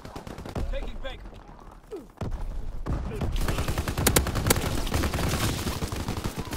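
Rapid gunfire bursts from Call of Duty, dense and loud, crackling in overlapping volleys through the second half after a quieter opening with brief game sounds and a voice.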